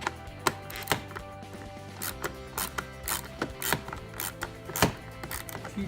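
Torx screws are backed out of a Ski-Doo snowmobile's top console with a ratcheting driver, giving repeated close ratchet clicks and mechanical ticks in irregular bursts, with no voices.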